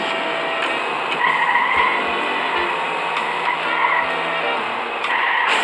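A car in the Does Not Commute game skids with its tires squealing in repeated wavering screeches over a constant engine drone, loud and close, with brief thumps scattered through.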